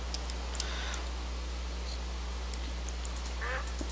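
Duck quacking in the video game Minecraft, a few short faint calls scattered over a steady low hum and soft game noises, with no talking.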